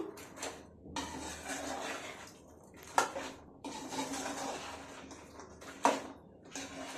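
Soya chunk pickle is stirred in a vessel with a spoon, making soft, irregular scraping and clattering close by, with two sharper metallic knocks against the pot's side and no voices.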